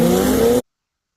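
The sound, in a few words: Ford Explorer ST launching hard, engine revving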